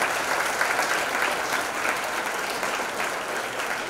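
Audience applauding at a Panamanian political candidate's forum with UDELAS students, a steady dense wash of clapping throughout at moderate level with no break.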